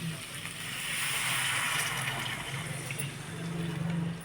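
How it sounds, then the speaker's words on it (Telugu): Water pours into a hot pan of tempered seasoning while upma is being cooked, a steady rushing gush that swells and fades over a few seconds, close and fairly loud with no talk. "కొంచెం వాటర్ వేసుకుందాము."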